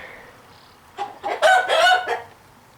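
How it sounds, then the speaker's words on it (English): A rooster crows loudly nearby with a few clucks, a short burst rising and falling against a quiet background. "And the chickens are happy."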